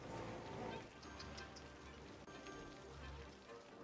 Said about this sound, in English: There's some rain coming.